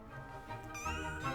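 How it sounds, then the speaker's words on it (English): A cat meows briefly, a close, drawn-out wavering cry from a moving cat picture on a collector's plate. "those pussycats speak and purr and things like that"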